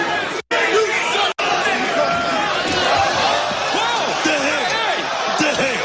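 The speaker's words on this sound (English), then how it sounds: "Crowd's going nuts." A wrestling arena crowd cheering wildly, a loud dense roar of shouts and whistles with chatter mixed in and two brief cuts to silence near the start.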